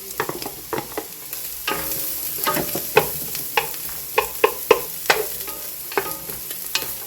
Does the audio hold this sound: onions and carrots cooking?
yes